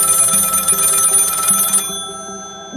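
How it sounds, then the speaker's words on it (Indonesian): A telephone rings loudly with a bright, rapid trilling bell in a steady pattern, then cuts off abruptly, leaving a fading ring tone; no voices. "Dering telepon berbunyi"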